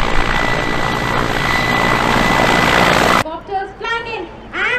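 Loud toy combat helicopter rotor roar with whirring blades, cut off abruptly, followed by a voice speaking.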